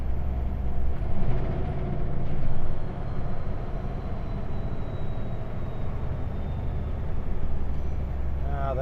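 From inside a heavy haul truck cab on mountain switchbacks, there is a steady low engine and road drone. A brief hiss of air brakes sits near the start, and a high whine runs throughout.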